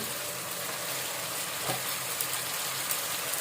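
Chicken pieces sizzle in hot oil over frying onions for a chicken karahi with gourd, a dense, steady crackling hiss that fills the clip, with a few brief sharper pops.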